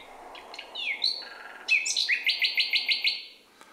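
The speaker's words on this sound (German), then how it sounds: "Diese letzte Strophe spiele ich euch nochmal in normaler Geschwindigkeit vor, damit ihr hört, dass die Nachtigall eigentlich wirklich viel besser hört als wir." A nightingale sings a full strophe at normal speed: scattered clear whistles and rising notes, then a rapid run of about eight loud, evenly spaced repeated trills, close and isolated against a quiet background.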